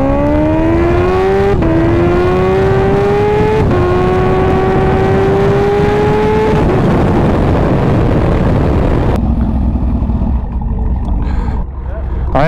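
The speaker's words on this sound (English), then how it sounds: "Is that you over there revving?" Car engine revving in repeated rising pulls, each climbing in pitch before a gear shift drops it back, loud and nearby for about nine seconds, then fading into background noise.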